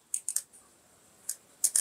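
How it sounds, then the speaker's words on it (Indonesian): Sterile scissors snip through a soft, wet moth orchid leaf infected with bacterial rot, giving a few quick close clicks: a cluster of three early, one more midway and a final pair near the end, with no talk. "potong dengan gunting steril"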